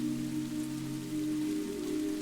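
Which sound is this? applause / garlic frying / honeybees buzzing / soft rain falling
soft rain falling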